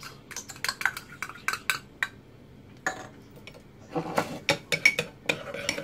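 Chili powder, mustard and oil are stirred in a bowl, with a spoon clinking and scraping against the dish in quick irregular bursts, close and fairly loud, without any talking.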